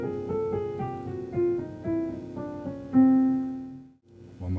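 A descending chromatic bebop scale is played as a run of sustained pitched notes stepping downward, each note ringing into the next, with a short gap and one more low note at the end.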